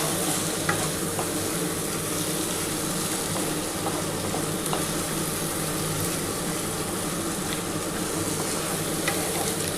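Prawns sautéing with spices in a pan for a prawn, potato and cauliflower curry, giving a steady dense sizzle with light scraping from stirring throughout.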